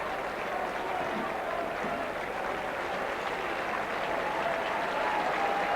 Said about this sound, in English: The Salford fans are down there cheering the team.